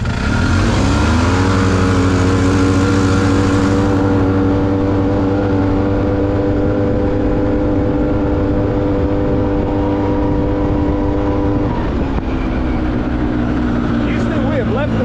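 Polaris Sportsman 500 and 700 ATVs race side by side, engines revving hard and droning loud and close, with a shift in pitch partway through as they accelerate.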